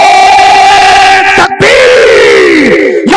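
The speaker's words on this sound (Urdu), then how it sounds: "نعرے" At a religious gathering, a large crowd chants religious slogans in loud, drawn-out unison shouts, breaking briefly once before the chanting resumes.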